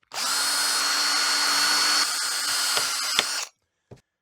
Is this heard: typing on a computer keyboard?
no